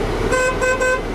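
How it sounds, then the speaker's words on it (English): A semi truck's city horn, sounded during a pre-trip inspection, gives three quick toots in a row, bright, loud and close, over a low idling hum. "my city horn"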